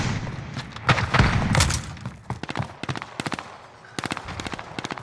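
Gunfire in the video game Call of Duty: Modern Warfare: a loud, close burst of heavy shots, then clusters of rapid automatic fire in short stuttering volleys.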